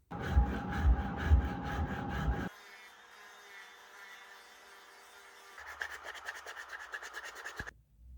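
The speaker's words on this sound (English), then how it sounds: "the Dremel gets you pretty dusty" A Dremel rotary tool shapes wooden sunglasses side pieces, starting with close gritty rasping strokes, then a quieter high motor whine, then a rapid buzzing grind before stopping abruptly.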